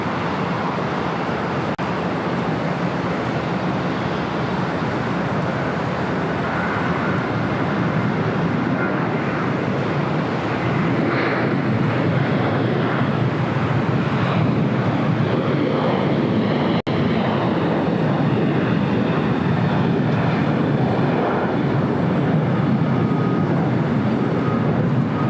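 A United Boeing Dreamliner arriving on runway 25 left at LAX, a loud, steady broadband jet roar that holds for the whole stretch with a faint high whine over it, heard from nearby and without talk.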